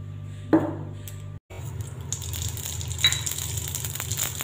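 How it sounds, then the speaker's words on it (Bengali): Poppy seeds and dried red chili sizzle in hot white cooking oil in a pan for tempering. A sharp crackle opens it, then a steady hiss and spatter carries on close by, with a brief clink of utensils. "সাদা তেলের মধ্যে আমি একটু পোস্ত আর শুকনো লঙ্কা ফোড়ন দিয়েছি।"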